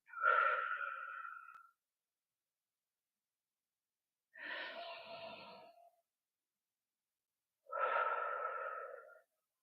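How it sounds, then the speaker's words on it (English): Three slow, deep breaths drawn in through the body, each a soft, airy rush lasting over a second, separated by long silences in a calm, quiet room. "I'm breathing in extra oxygen to that part"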